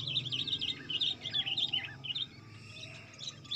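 Sooty-headed bulbuls chirp in quick bright bursts, several calls tumbling over each other, fairly faint against a soft low background hum.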